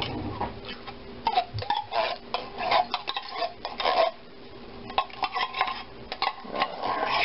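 A spoon scrapes undiluted cream of celery soup out of a metal can into a dish, making close, repeated clinks and scrapes in quick, uneven bursts.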